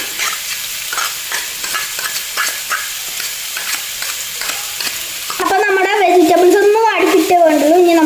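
Chopped cabbage leaves tossed into a hot pan for a chicken bread sandwich filling, with stirring scrapes and a loud, steady sizzle that surges as the leaves land; a voice talks throughout.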